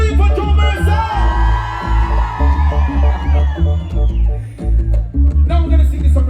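A live reggae concert crowd for a birthday celebration whoops and cheers in loud rising waves, with shouts and a performer's amplified voice mixed in.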